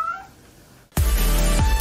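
A cat gives a single loud, close meow that starts abruptly after a brief faint sound and near silence, filling the second half.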